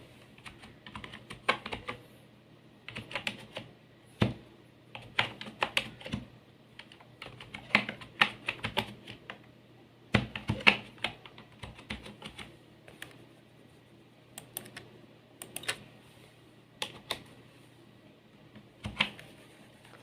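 Fingers tap out words on a computer keyboard in irregular bursts of crisp, close clicks with brief pauses between, quiet overall and with no voices.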